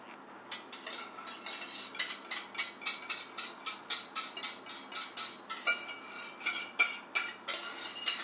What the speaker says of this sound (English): We are going to pour our sauce over the top here.